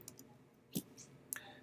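Calculator keys are pressed in a few sharp, quiet clicks, close up and spaced irregularly while a cosine law expression is entered.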